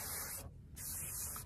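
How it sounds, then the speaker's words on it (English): Hair styling spray (Curl Intense) hissing from an aerosol can in two steady bursts with a short pause between them, close and fairly loud, with no talking. "There's a lot of spray in here because it's not really shaky."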